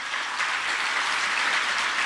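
Audience applause at a government school event in Delhi, a short burst of dense clapping from a crowd, steady and moderately loud throughout with no voices over it.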